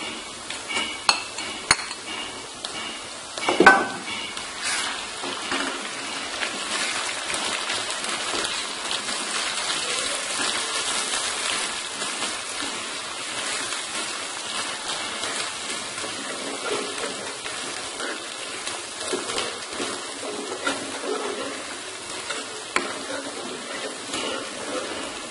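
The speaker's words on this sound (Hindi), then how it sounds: "अदरक लहसुन और मिर्ची जो अच्छे से फ्राई हो जाएगी" Onion, potato, green chili and ginger garlic paste frying in a pan for Punjabi-style aloo methi, a steady soft sizzle with occasional stirring and utensil clinks against the pot, close and continuous with no talking.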